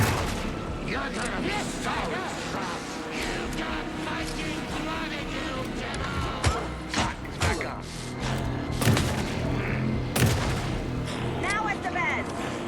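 Shotgun blasts in the video game Alan Wake 2, several loud booming shots with thuds among dense game sound and music, while a player talks over the action.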